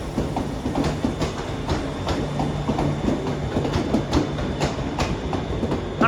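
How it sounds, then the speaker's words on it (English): A ScotRail train rolls into Glasgow Central station, its wheels giving a steady rhythmic clatter over the rail joints with a low mechanical drone and station echo, sounding loud and near throughout. "arriving now is a Scotrail service terminating here at Glasgow Central"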